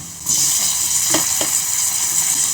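Tomatoes tipped into a pan of softened, reddish onions set off a loud burst of frying sizzle that holds steady, with a couple of brief clinks from stirring partway through.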